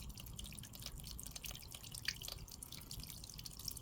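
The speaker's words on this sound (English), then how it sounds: "just fill the bottom with water." Water trickles and drips steadily into the bottom of a shallow seed tray nearby, with occasional brighter splashes and no voices.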